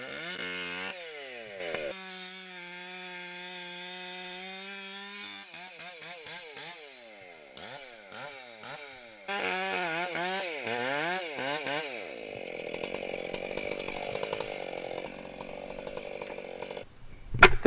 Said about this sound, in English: Here I'm using my MS-461 to finish the face cut off.